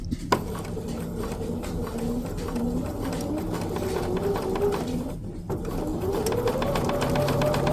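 A sewing machine runs nearby, stitching fabric for raw edge fusible applique on a quilt, with a steady whirring motor and a rising and falling pitch as the speed changes, and a brief pause partway through.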